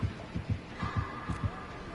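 Slow, steady heartbeat thumps from the killer in a video game chase, about five low pulses evenly spaced, moderately loud over a faint hum with game sounds above.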